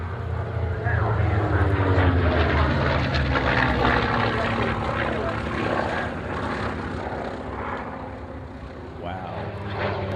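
A B-25 bomber's propeller engines drone loudly and steadily through a landing at an airfield, the throbbing roar easing slightly toward the end, with radio voices talking over it.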